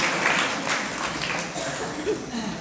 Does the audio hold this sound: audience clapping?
yes